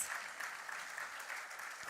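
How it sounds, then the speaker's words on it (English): Steady applause from an audience at the finals of a singing competition, honoring the judges, with dense clapping holding an even level throughout without any voices. "A round of applause, please."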